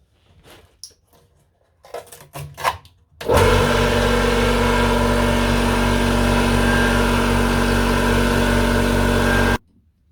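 A PKO24B2 24-litre air compressor starts abruptly and runs at a loud, steady drone for about six seconds while filling its tank, then cuts off; a few clicks and handling noises come before it.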